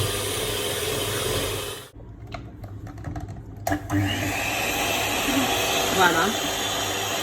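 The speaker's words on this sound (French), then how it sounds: "Donc je vais la battre avec mon batteur." An electric hand mixer whirs at high speed beating cream for homemade ice cream, a steady loud motor hum that cuts out briefly and then resumes, with someone talking over it.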